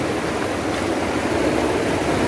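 River water rushes steadily along a trekking route, a constant broadband wash that stays close and loud with no pauses or voices.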